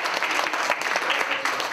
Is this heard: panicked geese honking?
no